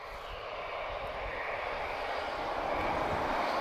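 TAP Air Portugal Airbus A320, a first-generation model retrofitted with sharklets, arriving at Lisbon Airport from Amsterdam, a steady broadband jet roar growing slightly louder over a few seconds, moderately distant.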